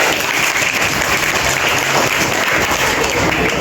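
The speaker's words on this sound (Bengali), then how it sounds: "সবাই একটু হাততালি দেয়" Steady, loud applause from an audience at a school farewell ceremony for SSC exam candidates, dense clapping sustained throughout with no pauses.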